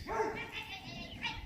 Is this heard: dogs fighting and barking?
yes